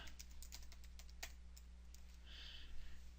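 Quick keystrokes on a computer keyboard while entering a street name into a crop registry web form, a short run of clicks close up over a steady low hum.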